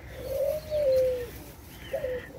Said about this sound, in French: Pour les tourterelles, j'ai des tourterelles blanches, donc couleur ivoire